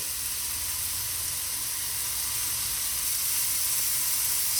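Mushrooms for vegan kokoreç sizzle steadily in a hot pan, a close, continuous hiss of frying with no talking.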